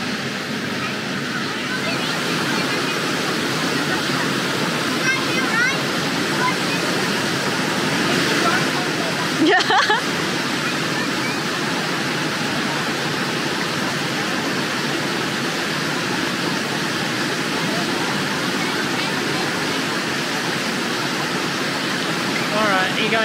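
Water rushes over the big natural rock slides at Big Crystal Creek, a loud, continuous broadband roar that stays steady and close for the whole stretch.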